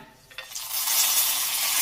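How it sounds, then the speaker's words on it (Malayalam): Fried mustard seed tempering with curry leaves and dried red chillies poured into a green plantain curry, giving a soft rising sizzle and stir that stays steady and close after a brief quiet start. "ഇനി കടുക് വറുത്തത് കറിയിലേക്ക് ചേർക്കാം."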